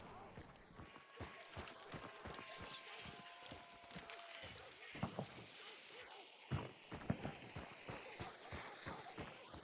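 Player footsteps sprint in Hunt: Showdown, a steady run of quick, crunching steps at close range, with a voice talking over them.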